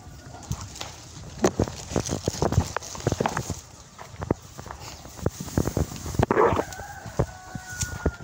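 Hens on a farm in La Union, Philippines cluck and call intermittently amid scattered scratching and footstep-like taps, with one louder squawk near the end.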